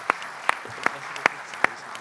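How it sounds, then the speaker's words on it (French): A handful of sharp, separate claps ring out at a conference on a future French aircraft carrier, spaced about every half second, sparse and fairly quiet against a hushed room. "On peut vous applaudir bien sûr pour votre présence et la qualité de vos témoignages."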